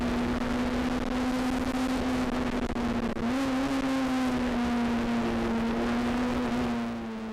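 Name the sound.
Honda race car engine on board at Bathurst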